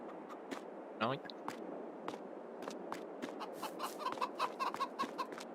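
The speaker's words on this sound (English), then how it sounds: "Chickens." Chickens cluck in the Farming Simulator 22 video game, with repeated short clucks and bursts scattered over a steady farmyard background, plus footstep-like taps throughout.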